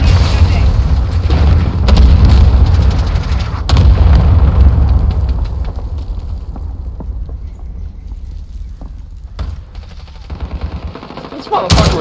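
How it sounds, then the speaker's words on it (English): Heavy explosion barrages from a cluster strike in Call of Duty Modern Warfare hardcore multiplayer, loud booming blasts overlapping with gunfire for the first several seconds, then trailing into scattered shots and thuds, with voices talking over it. "Put it right on B. My cluster strike."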